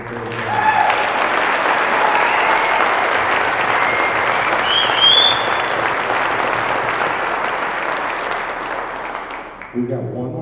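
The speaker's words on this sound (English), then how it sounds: "So one more round of applause for all the work that they've done." Sustained applause from a school audience at a sixth grade band winter concert fills nearly ten seconds, dense and steady, with a few cheers over it, then fades as a voice returns at the end.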